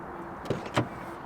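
Door of an Aston Martin DB11 opening: two short, close mechanical clunks about a third of a second apart, the second slightly louder, against a quiet background with no talk.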